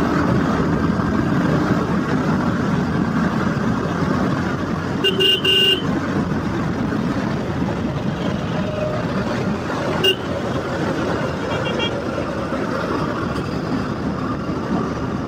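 Busy road traffic at Santapur junction in Assam, with a steady roar of passing vehicles and a few short car horn toots cutting through, close and loud throughout.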